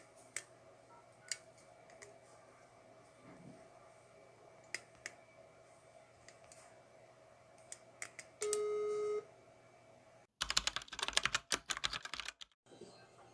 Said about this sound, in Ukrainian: Все, Петро, я телефоную твоїй мамі